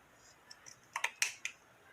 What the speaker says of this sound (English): not the best scissors, but it'll work.